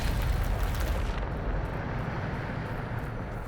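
The Depulso spell is cast in Hogwarts Legacy with a loud, rumbling, broadband blast that roars at full strength, then eases into a lower whooshing rumble, with no talking.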